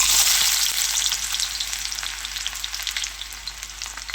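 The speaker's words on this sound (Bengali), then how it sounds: "এদিকে আমার তেলটা গরম হয়ে গেছে এবারে দিয়ে দেবো পেঁয়াজ কুচি" Chopped onion dropped into hot mustard oil in a heated wok, frying with a loud, dense, steady sizzle that eases slightly over a few seconds, no voices.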